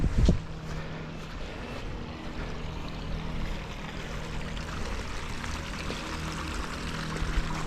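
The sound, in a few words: garden waterfall in front of a house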